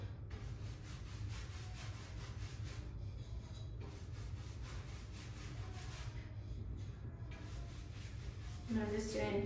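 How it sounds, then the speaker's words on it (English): Chalk-style furniture paint being rubbed onto a furniture surface by hand, a steady soft scrubbing and brushing texture that runs continuously over a low background hum, with a brief brighter scrape near the end. "So I'm just rubbing it on."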